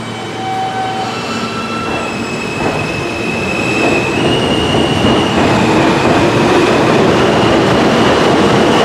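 A New York subway train on the BMT/IND 63rd Street line at Lexington Av-63 St station rumbles loudly and steadily, with wheels squealing in long high tones and a growing roar as it runs through the station.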